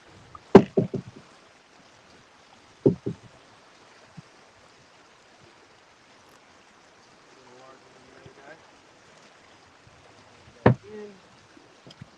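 A largemouth bass is dropped into a fishing boat's fish box, giving a few sharp close knocks and thumps separated by long quiet stretches, with one more loud bang near the end.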